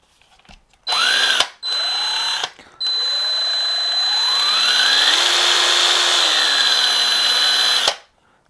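A Porter-Cable 20V MAX lithium-ion cordless drill whirs loudly in three runs: two short bursts, then a longer spin whose motor pitch rises, holds and drops before cutting off.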